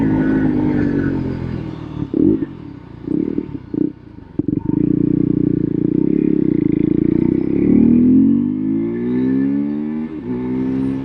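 A Husqvarna 401 Svartpilen motorcycle with a 373 cc engine revs hard and steadily, its pitch rising and falling through gear changes, loud and close, with a brief clattering dip partway through.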